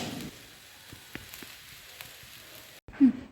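Uttapam batter frying in oil on a hot pan gives a steady, soft crackling sizzle, followed near the end by a brief louder clatter after a short pause.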